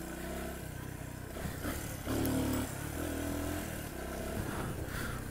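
A Honda XR 125 enduro motorcycle being ridden, its small engine note rising and falling through quick revs with some clattering, heard at low volume with no talk.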